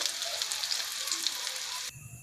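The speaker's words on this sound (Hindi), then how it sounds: "इसको भी अब फ्राई करके हम टिक्कियों को फिर उतार लेंगे" Steady sizzling of shami tikki patties coated in egg frying in a pan, a continuous crackly hiss that cuts off abruptly near the end.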